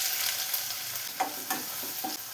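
Thin ginger slices fry in hot coconut oil in a pan, giving a steady close sizzle with a few soft stirring scrapes and crackles near the end.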